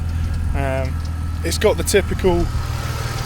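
A BMW E46 idles steadily with an aftermarket exhaust and the catalytic converter still fitted, giving a low, constant engine drone beneath someone talking close by.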